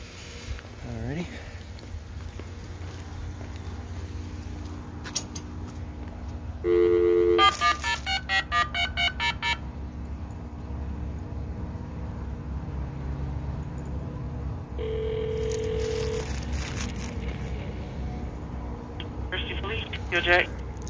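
Phone call ringing through an emergency 911 call box at an apartment complex, with dialing tones and ring tones sounding at close range amid ongoing talk and background hum.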